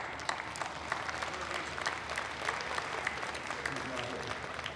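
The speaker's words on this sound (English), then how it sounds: "Let's applaud Mr. Lakhani and the Agora." Audience applause at the Agora, a rock concert club, a steady wash of many hands clapping at moderate distance with crowd noise and possible voices mixed in throughout.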